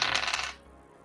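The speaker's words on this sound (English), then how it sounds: "let me get me some dice here real quick" A handful of dice is rolled during a tabletop role-playing game, giving a brief clattering rattle that dies away within half a second. It is close and heard alone.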